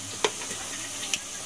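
Cinnamon, cardamom and bay leaves fry in hot oil for egg biriyani, giving a steady close hiss with two sharp little pops.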